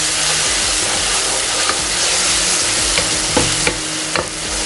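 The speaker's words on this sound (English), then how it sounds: "Stir it well" Ginger garlic paste sizzles and fries in a pot for chicken biryani while being stirred, a steady close hiss broken by a few spoon scrapes and taps.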